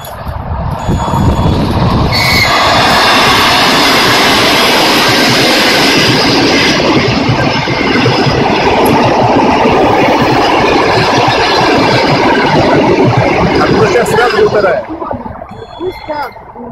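An ED4M electric commuter train roars past at close range, a loud continuous rumble of wheels and rushing air that holds steady for many seconds before easing off at the end.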